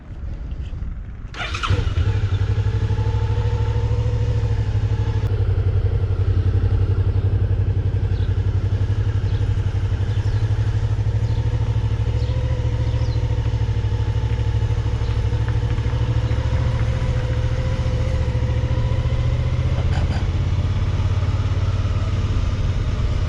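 Motorcycle engine, just woken after winter storage, runs steadily with a strong low rumble and a few clattery mechanical notes while a rider and a young passenger set off through a residential courtyard; no talk heard over it.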